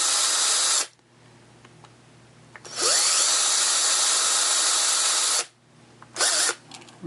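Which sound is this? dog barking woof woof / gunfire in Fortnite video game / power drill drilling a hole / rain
power drill drilling a hole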